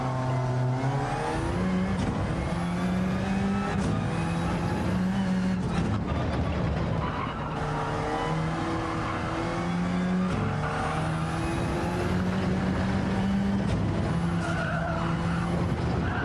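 A race car lapping Catalunya in Gran Turismo 7, engine pitch climbing repeatedly through gear changes then dropping under braking, with tyre squeal and skidding, loud and continuous without speech.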